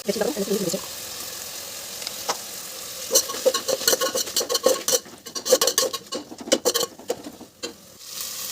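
Onions with red chilli powder fry in a pan while being stirred, giving a steady sizzle broken by scraping and clattering spoon strokes against the pan, louder and busier in the second half.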